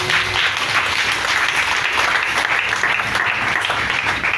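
A church congregation applauds together in dense, steady clapping that carries loud and continuous for a few seconds, with no break and no talk over it.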